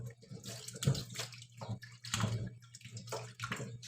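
Taro being washed under running water from a tap in a home kitchen, a steady splashing flow with gurgling surges and shifting handling noises, close and moderately loud.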